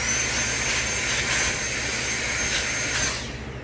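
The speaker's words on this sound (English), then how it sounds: "I'm going to vacuum it off" Hoover Onepwr Blade+ cordless vacuum cleaner vacuuming off a cyclone filter, a loud steady whining roar with a high motor whine, close and continuous before tapering off at the end.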